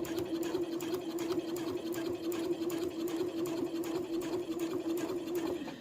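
A sewing machine stitches a fabric book sleeve, giving a steady, fast, even whir with a low hum that runs throughout.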